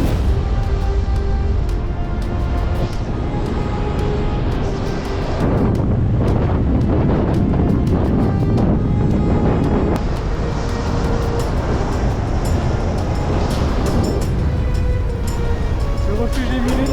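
Strong, steady wind on a mountain ridge buffets the microphone in a loud continuous roar, with a voice speaking briefly over it.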